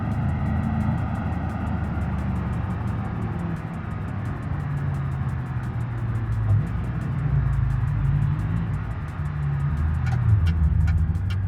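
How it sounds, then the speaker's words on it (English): A truck engine drones low and steady in BeamNG as it strains to haul a trailer uphill, the laboring rumble shifting pitch slightly with faint clicking over it. "This truck is a little bit hard at getting this trailer up the hill here."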